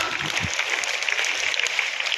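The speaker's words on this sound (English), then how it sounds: "Please give the round of applause." An audience at a school oath-taking ceremony claps steadily, a dense patter of applause at moderate volume without a break.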